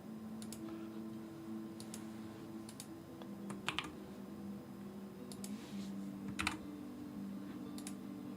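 Soft, scattered keystrokes on a computer keyboard tap out in small irregular bursts, faint and close, over a steady low hum with no talking.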